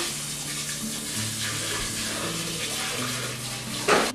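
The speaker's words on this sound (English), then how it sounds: "So I just rinsed out my pan." Tap water runs steadily into a sink, splashing against a pan, with a louder clatter of water just at the end.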